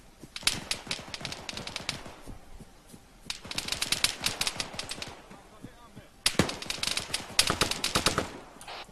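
Machine gun fire during platoon training at a compound with buildings: rapid bursts of sharp shots in three main volleys, fairly distant and crackling, with brief pauses between.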